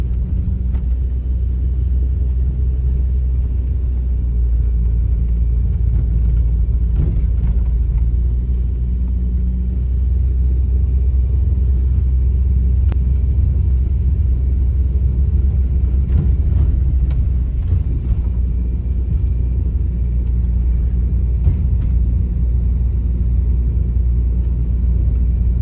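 An old Volvo 960GL climbs a steep concrete incline, its engine giving a loud, steady low rumble that holds unbroken from start to finish, with no voices over it.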